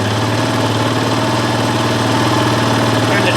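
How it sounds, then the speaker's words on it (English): A Honda CRF230 dirt bike engine idles steadily up close, a loud, even putter with a rough low rumble and no talking. "Seems to be idling okay."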